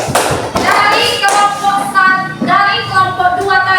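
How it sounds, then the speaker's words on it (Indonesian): A classroom group applauds a student team after a presentation, with uneven bursts of hand clapping and some thumps, close and fairly loud, with a voice heard over the clapping. "tepuk tangan untuk kelompok 3"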